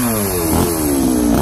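A chainsaw engine runs steadily and close by while cutting down a tree, its pitch dipping and rising as it bites and revs, with no voices.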